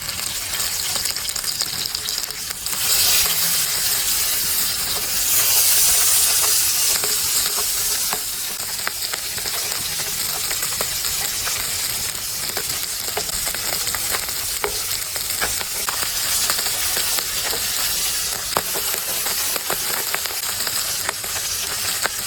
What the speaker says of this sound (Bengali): এবার গরম তেলে পাবদা মাছ এক এক করে দিয়ে ভেজে নেবো